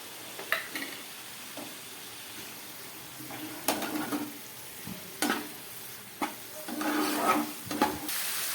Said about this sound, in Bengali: এবার আমি এর মধ্যে দিয়ে দিচ্ছি টমেটো, আর দিয়ে দিচ্ছি কিছুটা চেরা কাঁচা লঙ্কা।